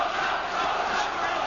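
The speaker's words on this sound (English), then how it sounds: "Potter, Potter, the Wembley crowd chant." A boxing crowd at Wembley chants a fighter's name during a bout, a dense and steady roar of many voices that fills the whole stretch without a break.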